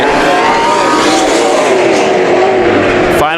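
Race cars battle for position in a heat race at Bakersfield Speedway, engines roaring loudly and continuously close by, pitch rising and falling as they accelerate, with a sharp rev near the end.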